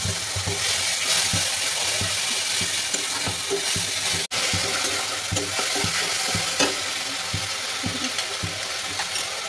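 Steady sizzling of Bengali five-spice seeds frying in hot oil, continuous and close, with occasional stirring scrapes and no talking.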